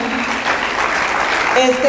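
Applause from a church congregation at a workers' meeting in Guatemala, a dense continuous patter of clapping with a voice speaking over it and a brief tonal sound near the end.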